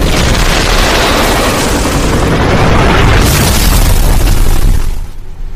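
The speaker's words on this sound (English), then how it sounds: "I packed the explosive shells." Explosive shells in an audio drama go off as a heavy, sustained roar of booms and bursts that stays loud for about five seconds, then cuts off abruptly.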